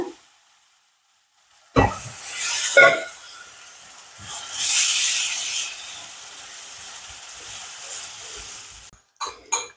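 Ginger curry with ground coconut and a splash of water stirred in a pan: a soft sizzle with scraping stirring strokes that come in bursts, then a steady simmering hiss, with no talking.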